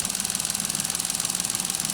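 A 2015 Ford Fiesta's 1.6-liter four-cylinder Sigma engine runs steadily with a fast, even pulsing hum and a high whine on top. It is close, fairly loud and continuous.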